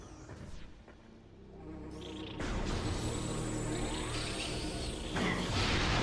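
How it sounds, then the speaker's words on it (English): War wasps in the Metroid Prime video game, a buzzing insect drone that grows louder and denser partway through, close and continuous, with game noises mixed in and no talk. "I really strongly dislike war wasps"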